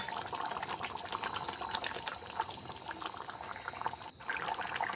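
A mustard hilsa curry bubbles in a pan, a dense, steady watery simmer with fine crackling pops throughout, close but fairly soft, with a brief dip near the end.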